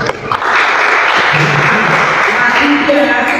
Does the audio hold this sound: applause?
yes